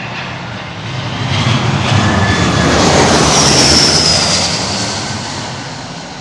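An Airbus A350 airliner landing in gusty crosswind: a loud, broad jet engine roar swells to a peak and fades as the aircraft passes close by, with a faint whine riding on top.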